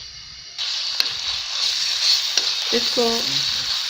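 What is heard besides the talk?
garlic and ginger paste frying in oil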